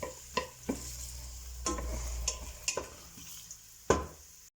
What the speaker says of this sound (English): I will add the carrots also. Move it around.